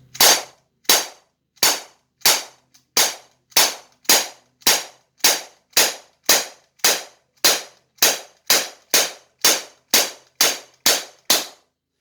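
BB gun fired at a target with open sights, about nineteen sharp, evenly spaced shots snapping out in a steady rhythm over twelve seconds, close and loud with no talking.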